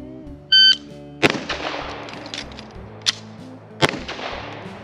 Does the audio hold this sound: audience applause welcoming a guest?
no